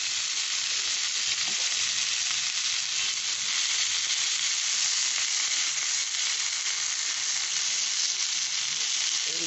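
Chicken reshmi kebab pieces frying in a pan give off a steady, close, even sizzle that holds unbroken and fairly loud, with no voices.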